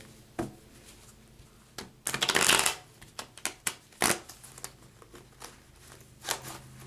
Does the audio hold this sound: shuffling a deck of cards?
yes